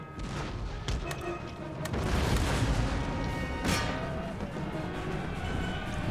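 Cannon artillery fire in an Empire Total War battle: a steady wash of rumbling booms and crackling volleys, with a sharper blast near the middle, loud and continuous throughout.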